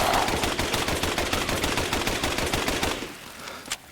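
Rapid automatic gunfire from a weapon in the video game Resident Evil 8, a loud continuous burst of closely spaced shots that stops near the end, followed by a single sharp click.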